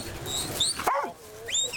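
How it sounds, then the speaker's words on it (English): A working dog mustering a herd of sheep at an outdoor work dog display during a royal tour, giving a few close, sharp yips and whimpering barks in quick succession. "Murray Wilkinson conducting a work dog display, mustering a herd of sheep"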